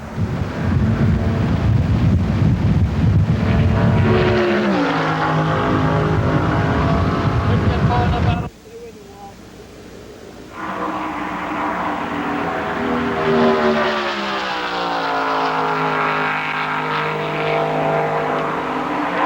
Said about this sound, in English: let Terry Labonte's Oldsmobile come by at over 200 miles an hour